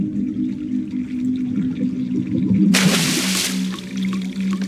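Water rushes and pours in the Cry of Fear video game, a broad burst of flowing noise over a steady low hum, loud and close, with no talking.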